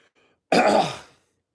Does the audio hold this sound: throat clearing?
yes